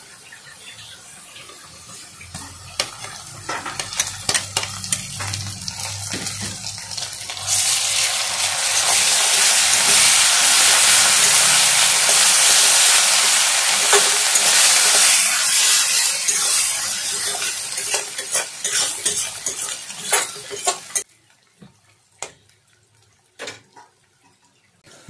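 Chopped onion, crushed ginger, garlic and raw green chilli fry in a pan for a lemon-leaf rohu fish masala, a loud sustained sizzle that swells in the middle and fades into scattered crackles.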